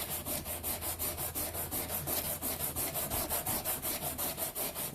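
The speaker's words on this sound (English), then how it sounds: "periodically just wet your sandpaper and keep on going" Wet sandpaper rubbed by hand across an aluminum part, regular back-and-forth scratchy strokes at a steady rhythm, close and soft, with no voices.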